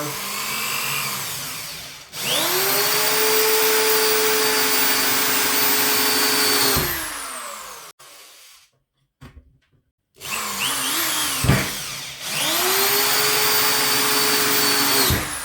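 A Parkside PNS 300 B3 two-speed drill screwdriver drives thicker, larger screws, giving two long, steady whirring motor runs of about five seconds each. The runs are separated by a short pause with small clicks, loud and close, with no talking.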